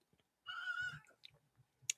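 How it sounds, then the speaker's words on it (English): A pet cat gives one drawn-out meow, close and fairly quiet, followed by small clicking and chewing-like noises. "her meows are sounding so good"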